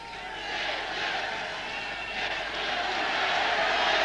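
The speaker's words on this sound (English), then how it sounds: "You might hear a chant that the crowd set up from time to time" A large stadium crowd at a 1982 France versus Australia rugby test roars in a steady, distant wash that swells slightly over a few seconds, with a commentator's voice faintly beneath it.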